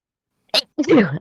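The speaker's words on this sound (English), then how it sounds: "Had to sneeze there." A single sharp sneeze: a quick explosive intake burst followed by a longer voiced "choo" release, close up in an otherwise quiet room.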